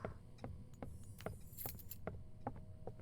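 A key is picked up in the horror video game Doors, a quiet, brief metallic jingle over a dim background drone with soft repeated clicks.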